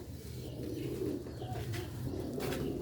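A black-faced Sialkoti pigeon coos softly in low, rolling phrases, repeating steadily against a quiet background.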